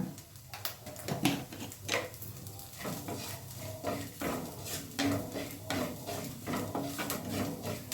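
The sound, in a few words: stirring frying mixture in clay pan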